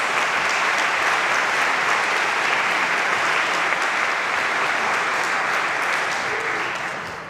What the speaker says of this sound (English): One more round of applause, please, for our charity workers.